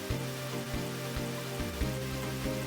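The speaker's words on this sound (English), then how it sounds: "Wait, it's raining like crazy." Heavy rain in the video game Pokemon Black makes a steady, dense hiss that runs through the whole stretch beneath tonal game music.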